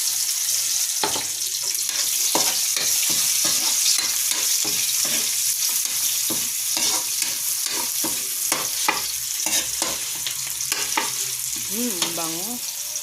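Onions sizzle and fry in a pan for a monggo dish with dried fish, with frequent stirring scrapes throughout and a brief voice near the end.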